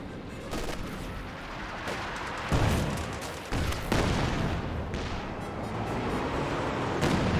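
Pershing tank cannon fire in a Company of Heroes 2 battle, with heavy booming shots and continuous gunfire rumbling through a dense, loud battlefield din.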